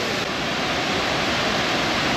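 Tee Lo Su waterfall in Thailand roars as a loud, steady, broad rush of falling water, unbroken and close, with no talk over it.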